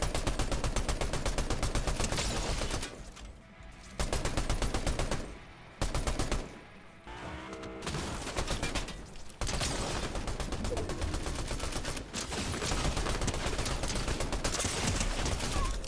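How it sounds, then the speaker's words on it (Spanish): Sustained bursts of rapid automatic gunfire in Fortnite, loud and close, broken by short pauses before the firing resumes, with no voices. "¿Cuántos disparos le di consecutivos?"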